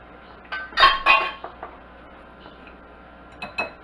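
Spoon or utensil scraping and clinking in a bowl while cold butter Crisco is worked into everything-biscuit dough, a few sharp clinks early, then softer scattered scrapes and taps.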